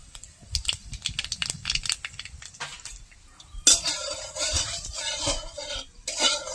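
Black cumin seeds go into hot oil in a wok, with light metallic clinks and taps, then a sudden burst of bright crackling sizzle that carries on close by and briefly flares again near the end.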